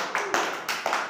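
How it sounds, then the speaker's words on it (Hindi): Schoolchildren clapping hands together in a classroom learning game, three or four rhythmic group claps in a steady beat, close and moderately loud, with no voices. "ताली मार"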